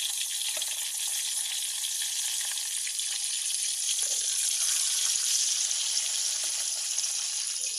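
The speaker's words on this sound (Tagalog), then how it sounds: "Dito tayo mag-preto ng ating ulam na isda." Small fish frying in oil inside an electric cooker, giving off a steady, close, bright sizzle with faint crackles throughout and no voices.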